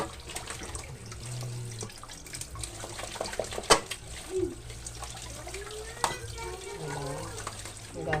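A kitchen tap runs over vegetables in a strainer, giving a steady low splash and trickle with occasional clatters, while a person talks quietly over it.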